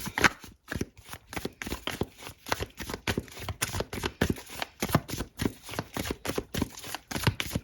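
A second tarot deck is shuffled close up, producing a continuous run of quick papery flicks and soft slaps in an uneven rhythm, with no voices.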